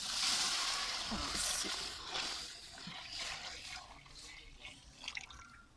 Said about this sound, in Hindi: अब डालने लगी हूँ मैं लस्सी